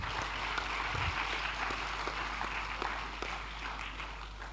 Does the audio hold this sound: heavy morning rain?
no